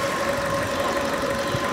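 A Fiat 500 Lounge engine idles steadily and close by, a continuous even hum with a faint mechanical tick running through it and no talk.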